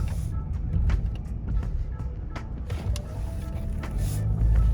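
A Jeep Compass driving on the road after a repair for a lost TCM communication fault, a steady low engine and road rumble from inside the cabin, even and moderately loud with small clicks.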